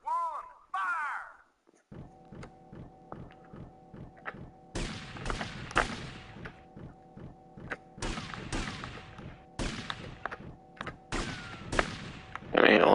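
Rifle gunfire in Grand Theft Auto: Vice City – The Definitive Edition, a series of sharp game shots in bursts over a low droning background hum, with a voice talking briefly at the start.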